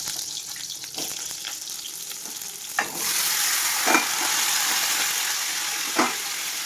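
Vegetable stalks for a poppy-seed dish sizzle and crackle in hot oil in a wok after a brief stir, the frying hiss swelling loud and steady with occasional clinks.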